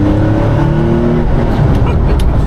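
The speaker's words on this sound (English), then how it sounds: "You can hear those turbos spooling up." A Jaguar XJ220's loud engine drones and climbs in pitch as it accelerates, heard from inside at close range, with a faint whistle of spooling turbos.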